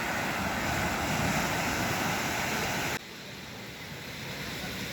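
Sea at a beach, a constant broad wash of surf mixed with wind rumbling against the microphone, loud and unbroken, dropping slightly in level partway through.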